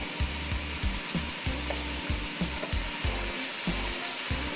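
Ground beef sizzles in a pot for taco soup, a steady close frying hiss broken by regular low knocks and scrapes of stirring.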